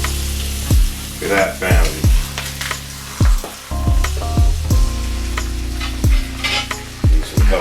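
Salmon fillets frying in a pan for a healthy breakfast, a steady close sizzle with repeated sharp clinks and scrapes of a utensil as the pieces are flipped, while a person talks briefly.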